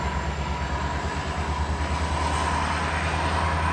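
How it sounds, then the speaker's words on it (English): A New Mexico Rail Runner train rolls along the rails with a steady, loud, deep rumble and a continuous hiss, close by and without talk. "the train's leaving at the end of the line"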